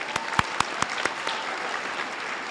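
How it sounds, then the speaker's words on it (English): The audience at a high school online academy graduation ceremony claps for the class of 2026: a few sharp, distinct claps up front, then a dense, sustained round of applause throughout. "let's give a round of applause for the whole class of 2026"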